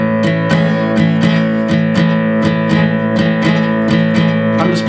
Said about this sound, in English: We're going to start with a well-known rhythm,